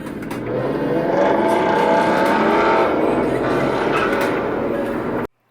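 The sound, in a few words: motorcycle and car racing on the road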